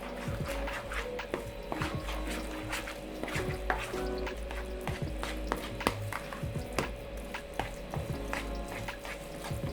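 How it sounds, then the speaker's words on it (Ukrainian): Dough ingredients with salt, oil and dill being stirred in a bowl for yeast-free garlic pampushky, giving steady close scraping and soft wet squishing with scattered clinks and a constant low hum underneath. "І добре все перемішую"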